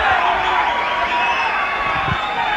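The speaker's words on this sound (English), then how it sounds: "the crowd is not happy about it" A boxing crowd voices its displeasure after a fighter goes down for a count, a continuous, fairly loud arena din of murmuring and jeering with no break.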